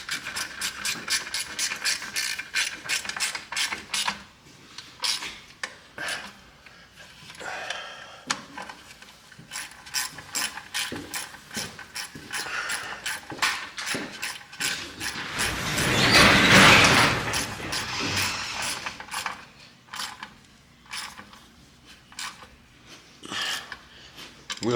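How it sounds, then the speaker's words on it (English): Ratchet clicking in quick repeated bursts while tightening the two bolts that hold the wheel cylinder on a 1979 Pontiac Bonneville, close and steady over mechanical handling, with a louder scraping rush in the middle. "put the 2 bolts back in that hold the wheel cylinder in"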